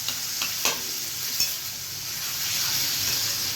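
Whole spices crackle and sizzle steadily in hot oil as the tempering for a Gujarati radish curry cooks, with a few sharp stirring clinks near the start over the continuous hiss.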